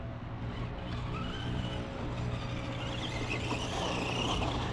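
A budget RC car with tires poorly suited to dirt strains on a hilly dirt track, its small electric motor whining steadily and rising slightly, up close and without talk.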